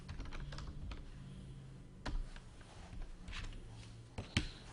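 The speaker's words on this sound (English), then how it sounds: "So let's quickly just type in" Typing on a computer keyboard while looking up an Upper Deck SP Game Used hockey card, a steady run of close, quick clicking keystrokes with a couple of sharper taps near the end.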